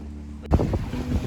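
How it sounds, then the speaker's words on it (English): Wind rushing over a sailboat at sea, a sudden strong gust bursting in after a near-silent moment and then buffeting steadily, loud and close. "Yes, we found wind. We found wind. The east wind."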